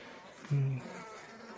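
Honeybees buzzing at a weak hive during a first spring inspection, a soft continuous drone with one louder close pass of a single bee flying by the microphone.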